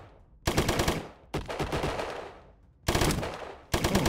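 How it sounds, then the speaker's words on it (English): Automatic gunfire in the Colony Ship video game: loud, dense bursts of shots in four blocks, each ending abruptly before the next volley starts, with no talk. "blind that character and then shoot him."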